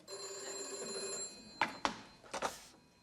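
An old telephone bell rings steadily for just over a second, then falls silent, followed by a few sharp clunks as the handset is picked up, in a wartime comedy scene.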